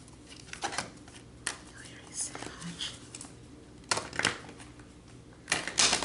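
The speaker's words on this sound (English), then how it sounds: "Let me shuffle off the table so I won't shake it." Soft bursts of tarot cards being shuffled and riffled, several short flurries spaced apart, fairly quiet and close.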